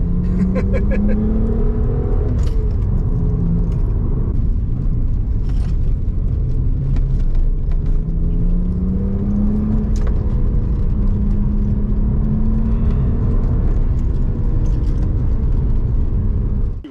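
Car engine at full throttle on a twisty rally road, a loud continuous in-car drone whose pitch climbs and drops repeatedly through corners, with traction control briefly cutting in on corner exits.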